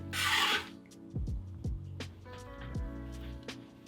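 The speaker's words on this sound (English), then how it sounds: "Take 2 scallions and cut it." A knife cuts two scallions on a wooden board, giving a few sharp, close chops spaced irregularly after a brief rasping scrape at the start, with no talking.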